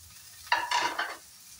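Chopped carrot, potato and green chili are stirred in a pan for a zero-oil vegetable soup, one short scraping, sizzling burst of about three-quarters of a second, close and moderate, over quiet background.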